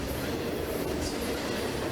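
Norfolk Southern freight train NS 27A rolling past at Shenandoah Junction, a dense, steady rumble of wheels and cars with rattling clatter, close and continuous.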